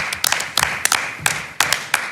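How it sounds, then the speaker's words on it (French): Audience applause at a French stand-up comedy show, heard as a short burst of separate sharp claps in an uneven rhythm, close and moderately loud. "Ça s'applaudit encore une fois parce que quand même"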